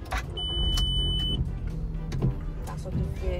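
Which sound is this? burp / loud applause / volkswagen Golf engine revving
volkswagen Golf engine revving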